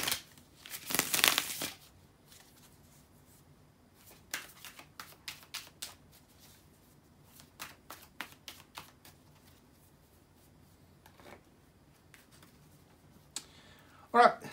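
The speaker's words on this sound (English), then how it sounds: "just let me shuffle and see what you got" Tarot cards shuffle in a quick burst, followed by soft riffles, taps and clicks spread over a quiet stretch, ending with a sharper snap.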